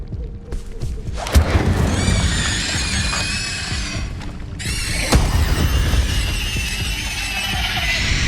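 An Incendio fire spell is cast in Hogwarts Legacy, giving a loud booming whoosh of flame with crackling and shimmering magical tones that swell, die down, then flare again as a second burst.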